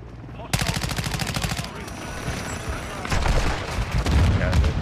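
Rapid automatic gunfire from a Chimera rifle in the video game Modern Warfare 2 rattles in dense loud bursts, with a brief pause before more shots and impacts, close and busy, under a faint game backdrop.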